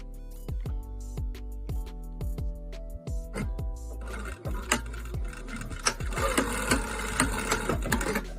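A sewing machine stitches back and forth along the length of a scrunchie: a steady run of rhythmic needle thumps that pauses briefly, then picks up again at a faster, busier pace, loud and close with no voices.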